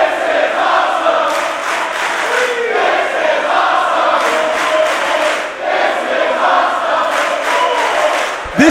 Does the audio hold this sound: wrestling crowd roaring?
yes